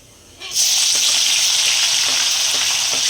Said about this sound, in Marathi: आपण घातल्यात मिरच्या, थोडं गरम तेलातच घालायचं